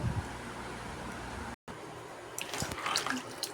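Tap water runs while cut sweet pumpkin is rinsed in a sink, a steady close rushing stream with a brief gap and then uneven splashing as the pieces are handled.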